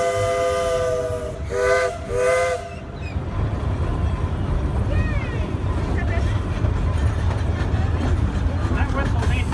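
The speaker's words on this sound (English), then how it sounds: "That whistle means we're going to stop for water." A steam train on a heritage forest railway sounds its whistle in two strong blasts near the start. The whistle is followed by steady rumbling train noise with faint squeals.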